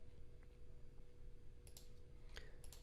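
A few quiet, sharp computer mouse clicks while saving in software, scattered over a faint steady hum, with no talking.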